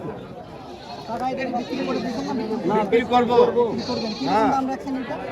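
Goats at a village goat market in Naogaon, Bangladesh, bleat repeatedly in overlapping, wavering calls close by. Crowd chatter murmurs underneath.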